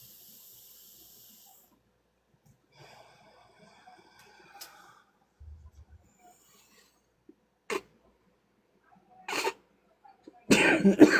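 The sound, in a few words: coughing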